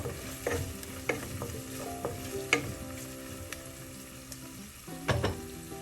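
Turmeric powder frying in oil with ginger and garlic for a kingfish curry, a soft steady sizzle broken by several distinct spatula scrapes and taps against the pan, no voices.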